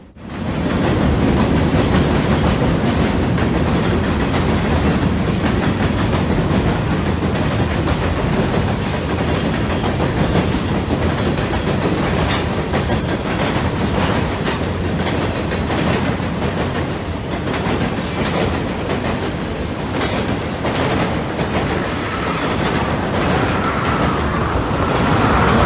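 A DT&I freight train with gondolas at the rear rolls steadily past, a loud continuous rumble of wheels and cars with clickety-clack rhythm sustained throughout, close and unbroken by voices.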